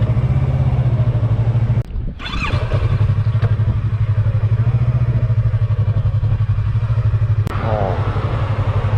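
A Yamaha R3 motorcycle with its stock exhaust while riding, a loud, steady engine drone close by, with a brief dip in the sound near the start and a short clatter later.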